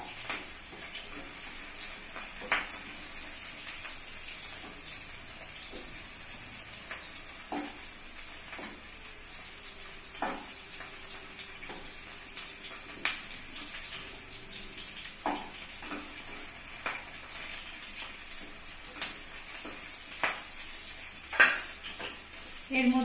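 Seven or eight cloves of chopped garlic fry in a pan for chilli paneer, a quiet continuous sizzle broken by scraping clicks as a spoon stirs them at irregular intervals.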